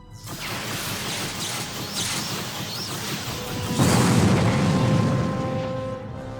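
A spaceship explodes in a sci-fi parody film. A loud, sustained rumbling blast surges into a heavier roar partway through, then trails off into a lingering hum.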